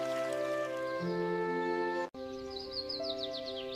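Small birds chirping in a forest, bright repeated tweets and trills over a sustained tonal musical background, close and clear, with a brief dropout midway; no talking.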